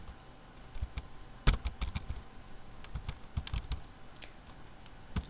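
Typing on a computer keyboard while writing CSS code: a steady run of light, close key clicks with irregular rhythm and one sharper, louder keystroke near the start, no voices.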